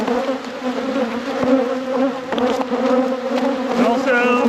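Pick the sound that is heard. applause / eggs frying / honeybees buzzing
honeybees buzzing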